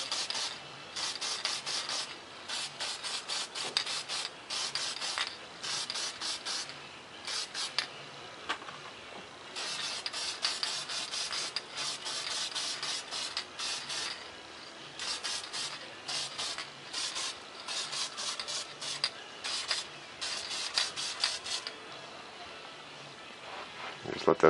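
Bursts of aerosol spray from a can of Testers paint misting onto a small model F-117 stealth fighter jet, hissing in repeated short and longer presses with brief gaps, close and steady.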